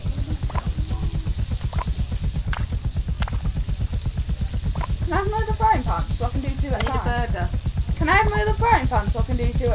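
Steady frying-pan sizzle from the Overcooked cooking video game runs continuously and fairly loud, with players' voices talking over it throughout.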